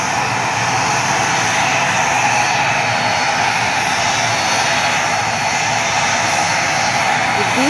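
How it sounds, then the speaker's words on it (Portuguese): A large airplane under maintenance at Leite Lopes Airport in Ribeirão Preto gives off a loud, constant engine roar and whine that fills the whole stretch without a break. "Eu vou tentar gravar aqui um avião para vocês."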